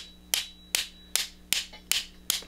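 Six light hammer taps land on aluminum Telecaster guitar hardware in an even rhythm, each a sharp close click with a short ring, spaced about four-tenths of a second apart.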